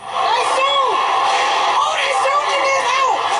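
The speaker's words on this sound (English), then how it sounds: "Chaos and screams from shoppers" Panicked shoppers scream and yell at an Alabama mall during a Black Friday sales crowd fleeing gunfire, rising and falling shrieks layered over a loud, dense crowd roar.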